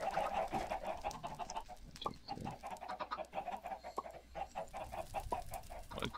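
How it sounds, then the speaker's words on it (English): Minecraft chickens cluck steadily and repeatedly throughout, a dense overlapping flock of game fowl sounding close and continuous. "It's too many chickens."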